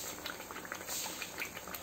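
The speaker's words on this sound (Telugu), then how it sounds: "ఈ విధంగా రెండు వైపులా ఫ్రై అయిన తర్వాత మనం తీసేద్దాము." Bottle gourd vadas frying in hot oil, giving a faint, close, continuous bubbling crackle over a short stretch, with no talk.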